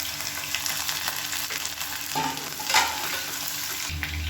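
Fennel seeds, fenugreek and dried red chillies sizzle and crackle in hot oil for a Tamil kuzhambu, a close, continuous frying hiss with brief stirring clatter and no talk.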